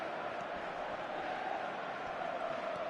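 A packed football stadium crowd roars in a sustained, dense wall of noise after an Inter Milan goal, heard from within the stands and filling the whole stretch without letting up.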